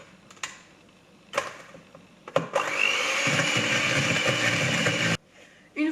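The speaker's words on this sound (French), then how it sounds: "on vient reprendre notre mélange avec les œufs et on y ajoute le sucre. Et on vient battre à nouveau" Electric mixer beating an egg and sugar mixture for tiramisu, starting abruptly and whirring steadily at close range for about three seconds before cutting off, with scattered clicks and knocks of handling before and after.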